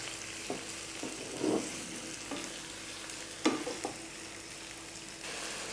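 Two large tomatoes with salt fry in a pan for a Bengali prawn curry, giving a steady low sizzle close by, with a few soft scrapes and clinks as the mixture is stirred, no talking.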